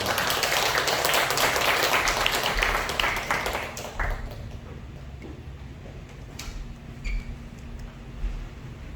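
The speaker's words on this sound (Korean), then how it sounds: "우리 목사님 나오실 때 큰 박수로 환영해 주시기 바랍니다" A Korean church congregation at Sunday worship applauds to welcome the pastor: a steady, loud wash of clapping for about four seconds that then thins and fades into quieter room sound.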